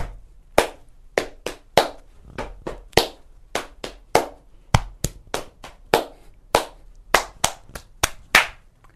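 Body percussion for Jingle Bells: crisp, close hand claps and slaps on the body ring out alone in a lively repeating rhythm, roughly two dozen sharp hits spaced evenly with brief pauses between phrases.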